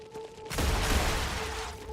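Enemy strafing gunfire in the video game Star Rupture, a sudden loud burst of rapid, overlapping shots that erupts after a brief quiet hum and keeps rattling without a break.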